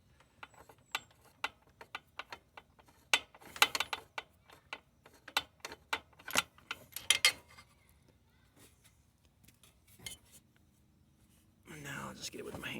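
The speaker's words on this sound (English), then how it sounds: "Once that's loose, you should be able to just spin the socket." A socket ratchet loosens a spark plug on a Craftsman Z6600 zero-turn mower, with bursts of quick close clicks and irregular pauses, then a brief rustling murmur at the end.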